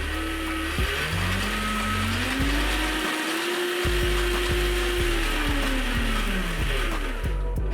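A Power Wheels ride-on toy motor run on an 18V drill battery in place of its 6-volt pack: a steady, loud electric whine that rises in pitch, holds, then falls again, with rattling gear noise throughout.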